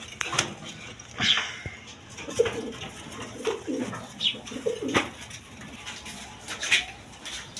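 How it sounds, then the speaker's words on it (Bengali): Rajgolla pigeons coo softly in low, rounded bursts, fairly close, amid faint rustling and fluttering in a pigeon loft, with no talk. "এখানে এক পেয়ার রাজগোল্লা কবুতর আছে"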